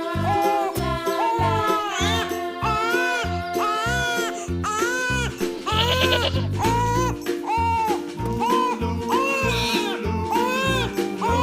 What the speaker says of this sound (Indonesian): ada kambing juga tuh.